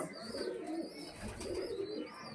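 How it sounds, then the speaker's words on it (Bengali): A pair of pigeons coos close by, soft, throaty rolling coos repeating in two drawn-out phrases over a quiet background. "এই যে ওই পাশাপাশি ওই দুটো জোড়া অন্ধারা পায়রা"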